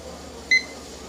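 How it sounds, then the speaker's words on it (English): A kitchen timer for a pressure canner of seasoned beans gives a single short electronic beep, faint and clean against a quiet background hum. "I'm going to go ahead and start my timer for 75 minutes"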